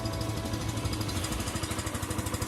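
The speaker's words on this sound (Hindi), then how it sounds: "बाइक हो गया स्टार्ट।" A motorcycle engine idles after starting to warm up on a foggy morning, a steady, close, rapid mechanical thumping with a regular pulsing rhythm and no voices.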